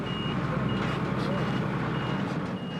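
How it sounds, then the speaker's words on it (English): A truck backs in at a wildlife conservancy during a herd relocation, its steady reversing beeper faintly audible over a loud rumbling engine and outdoor noise, with some voices in the background. "The truck backs in."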